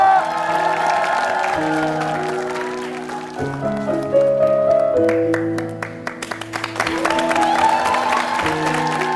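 A television studio audience applauds to welcome a guest onto a Korean talent show stage. The clapping is mixed under loud, continuous band music for several seconds.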